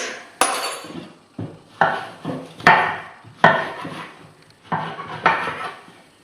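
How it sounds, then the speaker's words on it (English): Seeds being scooped out of fruit with a utensil, a series of about nine sharp scraping knocks against the fruit, each trailing off quickly, close and clear with no talk. "So scoop the seeds out."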